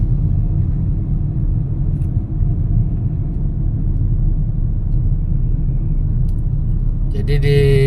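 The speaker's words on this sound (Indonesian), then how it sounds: "Jadi di sepanjang jalur ini tuh banyak motor, mobil, itu anak-anak kuliah ya" Motorbikes and cars travelling a campus road at Institut Teknologi Kalimantan, a loud continuous traffic rumble that stays steady before a brighter vehicle sweeps close near the end.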